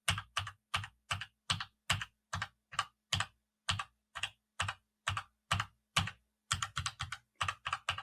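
Springy keys on a gaming keyboard clack under steady typing, each press a crisp, close, isolated click in a regular rhythm, briefly speeding into a faster cluster near the end.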